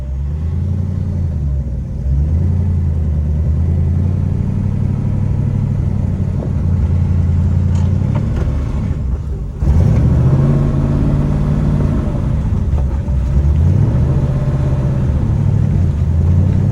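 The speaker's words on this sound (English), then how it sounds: "it's so nice hearing this engine without a bunch of like clinking and clanking." Car engine pulling steadily after a six-speed manual gearbox swap, driving on icy roads on summer tires, with a loud continuous drone that rises and falls through gear changes and a brief dip near the middle.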